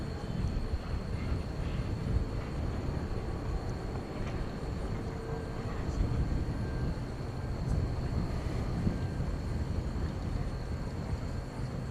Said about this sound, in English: There goes Qatar. That's an A350-1000 going back to Doha